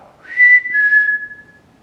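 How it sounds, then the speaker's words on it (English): A person whistles in an abandoned hospital, a single close, clear whistled note lasting about a second and a half with a slight dip in the middle, in near silence. "If I whistle, can you whistle back?"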